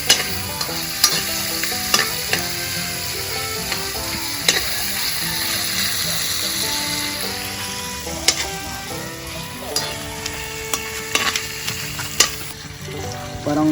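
Food fries in oil in a pan, giving a loud, continuous close-up sizzle and crackle, broken by sharp clicks and scrapes from utensils moving through the pan.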